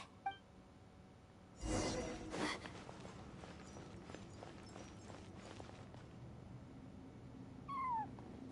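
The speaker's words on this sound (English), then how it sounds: "I followed the cat's cries to find my way out." A cat cries in the Genshin Impact video game, with short meows heard early and again near the end over soft footsteps and ambient game sound, plus a brief louder burst in the middle.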